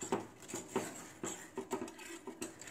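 Dark chocolate being stirred into hot chocolate in a pan, a utensil scraping and tapping against the metal in a steady rhythm of soft clinks, close and fairly quiet, with no talking.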